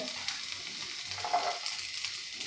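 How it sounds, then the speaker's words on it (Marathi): Mixed vegetables including carrot sautéing over a high flame, giving a steady close hiss and sizzle with a few soft stirring scrapes and no talking. "गॅसची फ्लेम आपल्याला मोठी ठेवायची आहे आणि त्यामध्ये आपल्याला भाज्या परतून घ्यायच्या आहे"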